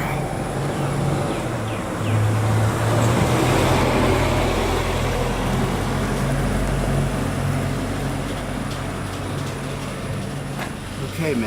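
A mail delivery vehicle rolls past with a low engine rumble that swells and then fades, while people talk over the passing noise.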